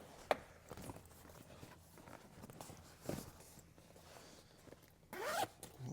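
A zipper on a leather truck seat cover being pulled in a few short rasping strokes, close and fairly quiet, with soft handling noises between them.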